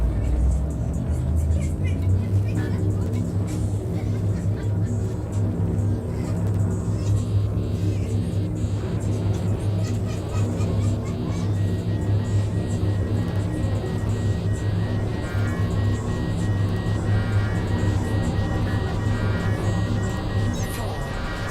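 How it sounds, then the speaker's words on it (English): A spaceship's frameshift drive charging in the video game Elite Dangerous, a loud, steady, engine-like drone with layered tonal hum that builds and holds throughout. "Frameshift drive charging."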